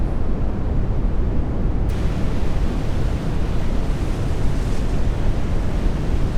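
Steady wind and rolling wave wash from the NAUTIS ship simulator game, a continuous broadband roar of sea and gusting air at an even, fairly loud level with no voices.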